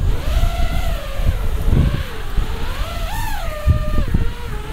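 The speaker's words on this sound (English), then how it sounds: "And the wind is super crazy." Strong gusty wind buffets the microphone while an FPV race drone flies outdoors, a steady loud roar with rising and falling whining motor tones throughout.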